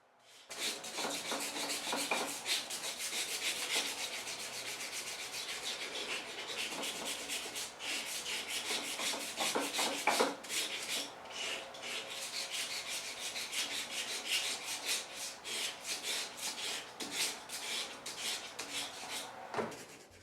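Steady hand sanding of a wooden knife-handle scale with sandpaper wrapped around a hard backing, a continuous close rasping rub with faster stroke bursts partway through, no voices.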